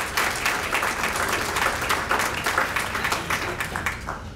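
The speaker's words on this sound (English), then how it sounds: "Let's give them a round of applause." An audience at a school-district retirement reception applauds the year's retirees, a full, steady round of many people clapping close by that holds evenly and then begins to taper.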